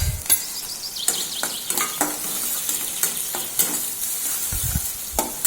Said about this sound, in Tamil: இந்த வெங்காயமும் பூண்டும் ரொம்பலாம் கோல்டன் ப்ரௌன் வர அளவுக்கு வதக்க தேவையில்லை.